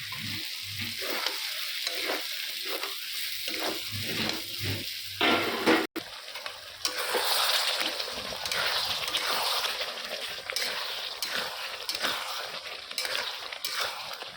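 Curry frying in a pan hisses and sizzles loudly and steadily after a splash of water, with a spoon stirring and scraping through it; at first the sizzle is patchier, then it swells into a dense, continuous roar.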